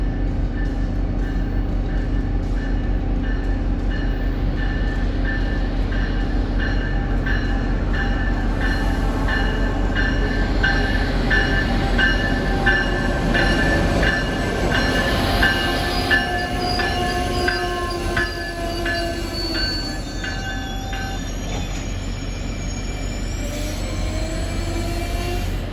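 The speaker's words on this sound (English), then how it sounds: "arriving at 12:39 is Amtrak 172 en route from Washington to Boston" An Amtrak train running Washington to Boston, hauled by an ACS-64 electric locomotive, pulls into a station with a heavy continuous rumble of wheels and cars, squealing brakes and wheels, and a brief horn sounding near the end, close and loud.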